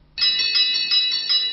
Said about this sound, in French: On peut encore faire sonner les cloches, celles d'un carillon